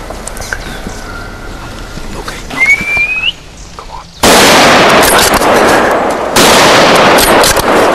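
A 9.3x62 carbine fires at a wild boar in the woods, two loud sharp shots cracking a few seconds apart after quiet outdoor ambience with a faint bird whistle.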